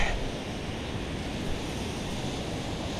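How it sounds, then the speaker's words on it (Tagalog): Rough sea waves churn and wind blows at a river mouth on a choppy morning, a continuous loud wash of surf and gusting noise with no voices. "Oh, laki ng alon na."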